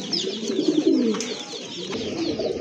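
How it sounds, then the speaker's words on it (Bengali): A male pigeon, kept in a loft of Lotan and Kagzi breeds, coos close by in repeated low throaty phrases, with faint bird chirps in the background. "আর ডাকতেছে এটা কিন্তু আপনার নর কবুতর।"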